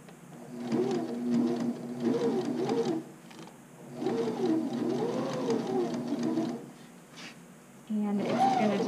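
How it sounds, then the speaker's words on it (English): A sewing machine stitches in the ditch along a garment fold, running in several bursts of rapid mechanical whirring separated by short pauses. "what I'm doing with my stitch in the ditch is I am catching the back side of my garment"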